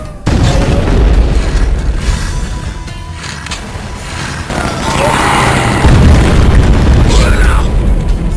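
Booming firework-like explosions burst in Shadow Warrior Classic Redux, loud and repeated over a steady rumbling din, growing heavier toward the end.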